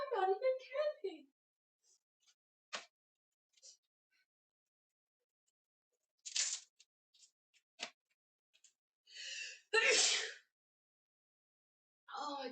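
Bursts of sneezing in a fit, several sharp explosive sneezes spaced apart over quiet room background, with some brief vocal sounds between them.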